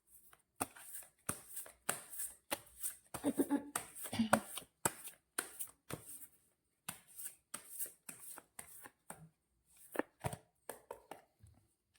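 Tarot cards being shuffled and drawn by hand, a close series of short crisp flicks and slaps in an irregular rhythm with brief pauses between them.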